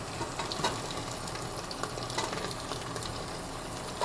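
Dal and rice roasting in a pan for khichdi give a steady, close sizzle and crackle with faint stirring scrapes, continuous and even throughout, with no voices.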